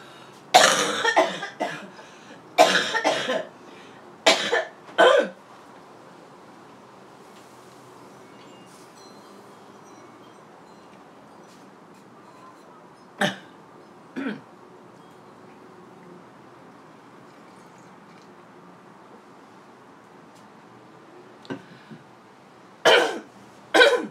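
A cluster of harsh coughs and throat clearing near the mic, then a long quiet stretch with a few isolated coughs, a final pair at the end.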